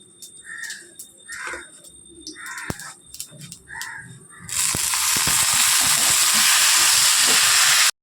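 Crows caw repeatedly in the background for several seconds. Then marinated guro fish drops into hot oil for chochchori, and a sudden, loud, close sizzle begins and holds steady to the end.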